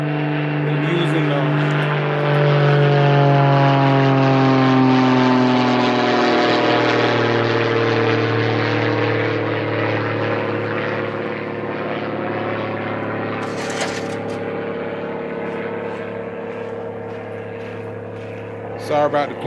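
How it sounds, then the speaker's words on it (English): A propeller airplane passes overhead, its droning engine swelling loud and then slowly fading over nearly twenty seconds, with a person talking quietly outdoors beneath it. "sorry about the plane"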